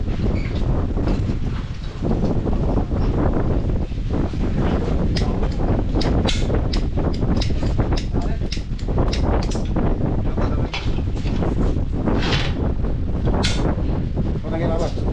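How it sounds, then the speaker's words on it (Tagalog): Strong wind roars and buffets across a mountaintop farm, loud and continuous, with gusty crackling bursts against the microphone. A voice speaks faintly beneath it. "malakas ang hangin mga beli"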